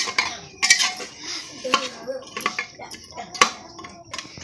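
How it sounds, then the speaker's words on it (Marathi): Spoon stirring a biryani mixture in a cooking pot, with scraping and clinking of utensil against metal in irregular bursts, close and moderately loud, alongside faint background noise. "आता हे पण चांगलं मिक्स करून घ्यायचं आहे"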